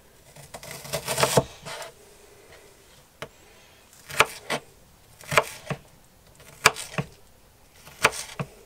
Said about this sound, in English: I'm just chopping the onion into cubes.